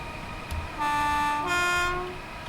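A Class 313 electric train's traction motors whine in Train Simulator Classic on the East Coast Main Line, steady tonal hums that step up in pitch for about a second and a half over rumbling running noise.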